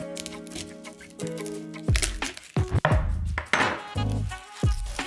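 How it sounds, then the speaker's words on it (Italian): A garlic clove is crushed flat on a kitchen board while preparing porcini mushroom tagliatelle, giving several dull, heavy thuds at an uneven pace over a faint background hum. "L'aglio. Schiacciato così, basta."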